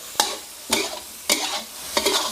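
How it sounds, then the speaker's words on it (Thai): Shrimp stir-fried in a pan with soy sauce: four regular, sharp scraping tosses of the spatula, each bursting into sizzle, over a low continuous frying hiss, close by. "ผัดคลุกเคล้าให้เข้ากันให้กุ้งสุกเลย"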